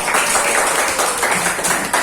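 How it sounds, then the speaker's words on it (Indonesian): Classroom applause from students during a lesson on generating electricity from potatoes, a steady dense patter of many hands clapping at once for the full two seconds, fairly loud and close. "Oke, tepuk tangan dulu."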